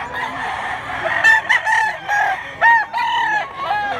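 A bullstag gamecock crows loudly and close, several repeated drawn-out calls in quick succession against a murmur of background farm noise.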